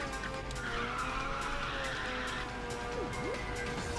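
Race car in Ridge Racer 6 roaring along with steady engine drone and sliding tire squeals during a drift, with pitch sweeps near the end; game sound plays loud and continuous with no talk.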